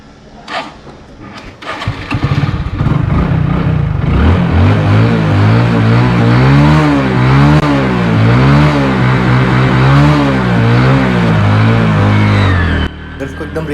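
Hero Glamour 125 Fi motorcycle engine starts after a few clicks, then idles and revs in steady rising and falling waves for about nine seconds before cutting back, loud and close with no talking.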